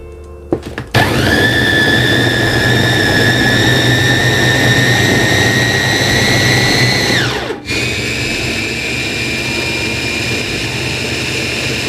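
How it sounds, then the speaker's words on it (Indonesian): A kitchen blender grinds large red chilies, curly red chilies and candlenuts with added water. The motor kicks on with a loud, steady high whine, drops sharply in pitch about two-thirds through, then keeps running lower. "Saya tambahkan air ya, untuk memudahkan kerja blendernya."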